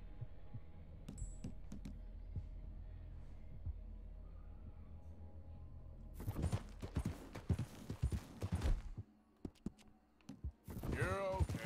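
Horse hooves clip-clopping in Red Dead Redemption 2, a steady muffled rhythm for the first stretch, then louder, busier hoof and movement noise later with a voice at the end.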